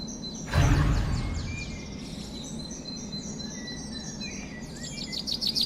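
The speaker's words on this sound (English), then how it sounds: "There's also going to be less birds in the final game chirping." Birds chirp and tweet in the Spider-Man Symbiote Echoes video game, a steady layer of quick repeated calls over a low ambient hum, with one loud thump early on and a flurry of calls building toward the end.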